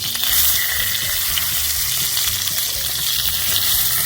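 Salmon fillets sear in a hot pan, giving off a steady, close crackling sizzle with scattered pops and no pauses.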